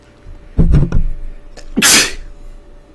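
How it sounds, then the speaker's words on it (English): A person sneezes forcefully up close, a sharp two-part burst with a caught breath and short noises before it, alone over a faint background hum. "That sneeze hurt."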